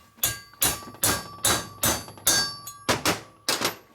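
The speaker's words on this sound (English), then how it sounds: "You beat them with a big hammer." A big hammer beats valve guides into a 1983 Harley FXR 80ci shovelhead cylinder head: eight loud, sharp metallic blows in a steady rhythm, each ringing briefly before the next, close up with no talk.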